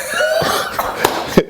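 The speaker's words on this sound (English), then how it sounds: "The cough was on cue." A person coughs several times in close succession during a sit-down interview, loud and close, the coughs harsh and breathy with short gaps between them.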